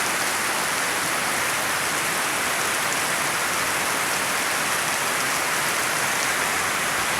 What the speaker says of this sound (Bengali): দেখেন আমাদের বাসার কাছে বাসায় কত বৃষ্টি নামছে।